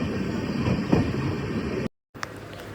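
The Jhelum Express rumbles steadily along the rails between New Delhi and Mathura, heard from inside a general-class coach, a continuous loud clatter with a thump, then a brief dropout before the running noise resumes.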